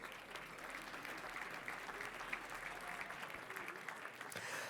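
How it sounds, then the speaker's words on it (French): A gala audience at a Quebec cooperative awards ceremony applauds the jury, a soft, distant wash of clapping from a large hall that holds steady throughout. "Alors, on peut les applaudir"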